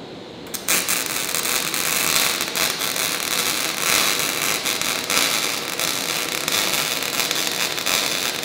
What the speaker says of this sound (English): So act out first like you're setting it up and then start welding.